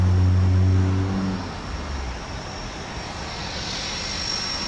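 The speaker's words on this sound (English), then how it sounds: "here comes the Convair. If you missed it the first time, it's Convair CV 5800." A 69-year-old Convair CV 5800 airplane passes at an airport, its propeller engine drone loud at first with strong low tones, then fading to a steady, more distant rumble.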